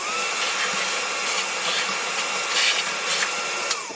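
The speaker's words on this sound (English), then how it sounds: "I'm going to do another round of vac around the edges here just to clean everything up." A vacuum cleaning around the edges of a Sparx skate sharpener, a steady high whining suction hum with small shifting rattles as the nozzle moves, close and alone.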